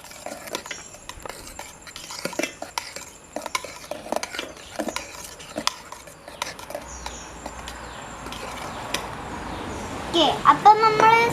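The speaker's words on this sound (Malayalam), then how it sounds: "അപ്പം നമ്മൾ സോപ്പ് ഇളക്കി കഴിഞ്ഞിട്ടുണ്ട്." Homemade liquid hand-wash soap being stirred and beaten in a container, repeated scraping clinks of the spoon against the sides in an irregular rhythm, moderately close, with a voice and bird chirps faintly in the background.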